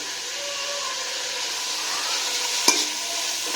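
Mixed vegetables frying in a pan over raised heat, a steady broad sizzle holding throughout, with one sharp clack of a utensil against the pan near the end.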